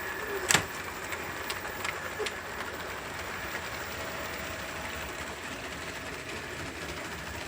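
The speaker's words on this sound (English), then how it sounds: "you can hear the engine accelerate and" A LEGO 1:48 scale EMD F7 model locomotive pulls away on a layout. Its motor makes a steady, faint mechanical hum and rumble, with a brief sharp click near the start and no talking.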